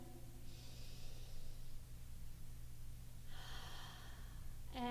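Two slow, deep breaths, each drawn in through the nose and let out through the mouth with a soft audible rush, heard faintly over a low hum during a cool-down exercise.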